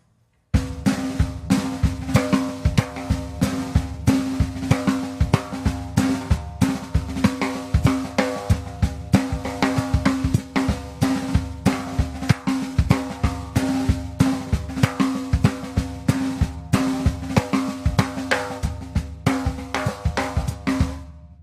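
A drum kit plays a steady march groove at a drum clinic, with crisp snare and cymbal hits repeating in an even pattern, loud and close with no talking.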